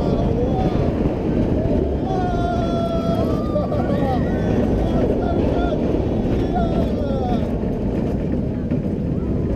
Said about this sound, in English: Shambhala going fast into a small loop.